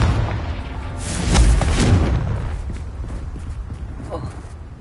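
Confringo fire spell blasts in Hogwarts Legacy on PS5, a booming burst swelling midway amid game effects, with a voice speaking over the action.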